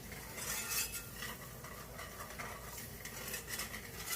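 A flour and butter roux being stirred in a pan, while meatball gravy is made alongside onions, garlic and spices: a steady scraping, swishing stir with faint sizzle and occasional utensil clinks against the pan, no talking.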